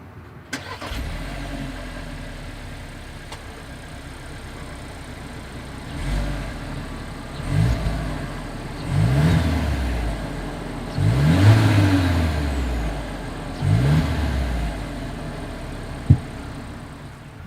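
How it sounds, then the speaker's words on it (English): A 2022 Volkswagen Taos sits parked and idles while its exhaust is revved in several short bursts, each rising and falling, close and fairly loud, with no talking. "As always, here is that exhaust clip."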